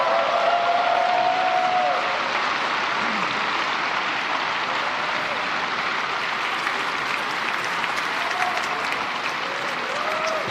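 Sustained standing ovation from a large crowd at a Philippine presidential State of the Nation Address, steady and dense for about ten seconds, with faint voices mixed in.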